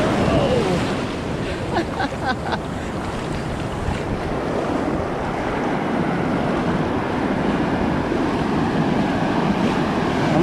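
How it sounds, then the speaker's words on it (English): Ocean waves break on a shore where surfers are out, making a steady, loud wash of surf heavily mixed with wind buffeting the microphone, with no pauses throughout. "Oh, here come the waves."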